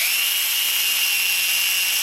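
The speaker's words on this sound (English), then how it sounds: "So on this one I'm going to just drill a pilot" A power drill bores a pilot hole into wood with a steady, close, high-pitched whir that holds evenly throughout. No one speaks.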